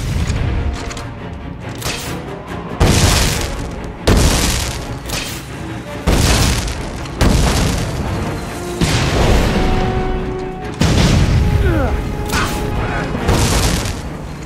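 Fuel tanks exploding in Dead Rising 4: a series of heavy, booming blasts roughly every two seconds, each followed by a crashing tail of debris and rumble, with a voice faintly present at times.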